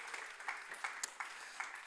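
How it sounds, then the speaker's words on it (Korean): Audience at a Sunday high school church service applauding for an award recipient, a faint, sparse patter of clapping with a few distinct claps. "여러분 박수 쳐주세요"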